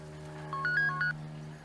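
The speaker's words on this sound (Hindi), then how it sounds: "बहन का फोन है।" A mobile phone rings briefly with a short electronic melody of a few quick rising and falling tones over a steady low hum, close and fairly quiet, no talking.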